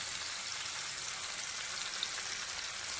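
Fish frying in shallow oil on a dosa griddle over a medium flame gives a steady, even sizzle and crackle that holds at the same level throughout, with no voices.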